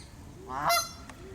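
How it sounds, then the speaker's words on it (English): A flock of geese gives a short burst of loud honking, a single rising call swelling and fading within about a second over a quiet outdoor background. "A gang of geese."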